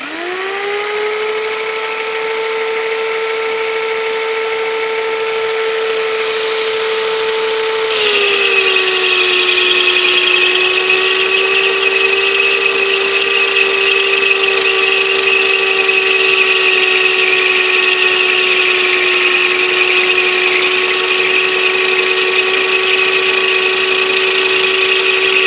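A $134 mag drill line facing with a loose-prone cutting tool keeps up a loud, steady high-pitched squeal with a constant motor whine, rising in pitch and intensity partway through.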